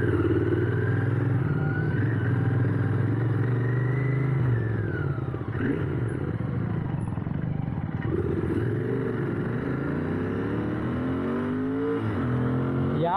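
A Royal Enfield GT650 motorcycle engine revs and accelerates close by, its pitch rising through repeated climbs with a brief dip in the middle before pulling up again, loud and unaccompanied by talk.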